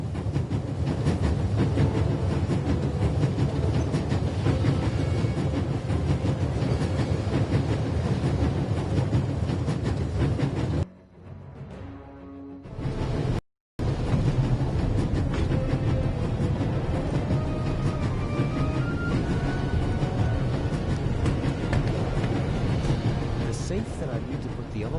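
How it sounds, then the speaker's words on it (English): A train rolls along its rails in the video game The Raven Remastered, a loud, steady rumble and clatter that drops out briefly near the middle before resuming. "There's nothing quite like traveling on a train."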